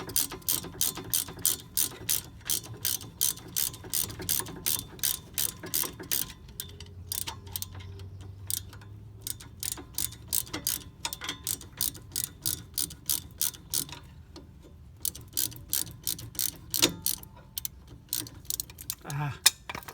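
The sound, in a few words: ratchet unscrewing a bolt on Ford Escape Hybrid front brake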